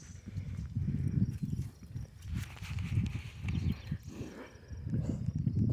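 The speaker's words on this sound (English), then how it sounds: "Scared the horses and the donkey." Horses and a donkey on a small farm move about, their hooves making soft, uneven clip-clop thuds on the ground at a moderate distance, continuing throughout.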